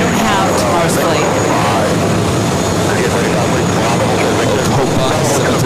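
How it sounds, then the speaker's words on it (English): A Copa Airlines Boeing 737 Max 9 jet at JFK, its steady broadband engine roar filling the scene continuously at close range, with no voices heard. "Copa 737 Max 9. It's actually in front of our cameras here at the TWA Hotel."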